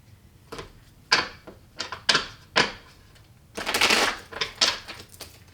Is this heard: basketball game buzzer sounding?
no